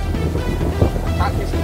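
Strong, gusty wind roars across the microphone during a giant kite fight, a steady low rumble with brief louder buffets, while muffled voices sit underneath.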